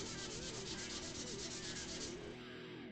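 Fine-grit sandpaper rubbing back and forth over guitar frets on a neck, giving a soft, steady, close scratching hiss in even strokes that fade near the end.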